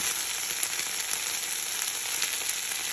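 Broadleaf plantain shoots and leaves and hosta leaves stir-fry in a pan, giving a continuous close, bright sizzle with light crackles and no talking.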